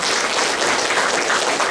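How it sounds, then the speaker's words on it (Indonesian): A church congregation claps together, a dense, steady burst of applause filling the room for a couple of seconds. "Berikan tepuk tangan bagi Tuhan."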